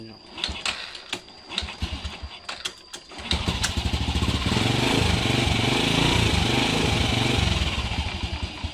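A Honda Wave 100 motorcycle sits in a workshop with its dashboard being swapped for a digital one. Sharp clicks and taps come first, then the engine catches and settles into a steady, close idle putter, with voices talking nearby.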